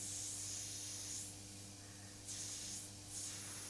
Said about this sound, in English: you'll notice here I'm using the airbrush first to establish some of the textures. I'm not just spraying flat.